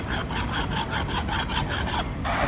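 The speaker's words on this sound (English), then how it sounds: "we've got to get rid of some of this powder coat paint, so I'm just going to kind of scrape it off" Powder coat paint scraped off a metal drum cradle, a loud close rhythmic scraping of quick repeated strokes that slows and stops near the end.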